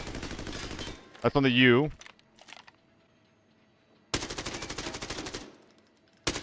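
Automatic gun in a first-person shooter video game firing rapid bursts, loud close rattling volleys that start and stop, with someone talking between bursts.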